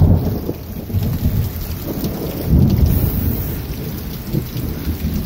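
A thunderstorm pours steady heavy rain onto outdoor surfaces while deep rolling thunder rumbles and swells midway through, loud and enveloping, with no voices.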